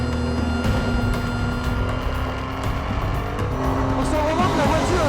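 Renault Sport RS01 race car braking hard in a Renault Sport Trophy race, loud engine roar dropping as it slows, then tires squealing with rising pitch toward the end, all close and continuous with a voice talking over it.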